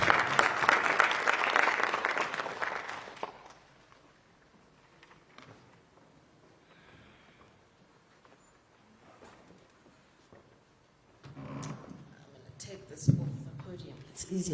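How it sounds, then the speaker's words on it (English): An audience at a film-industry roadshow event in Kimberley applauds as a speaker comes to the podium. A loud burst of clapping lasts about three seconds and stops abruptly, followed by quiet room sound and murmured talk. "So can we give him a round of applause so that she can come to the podium?"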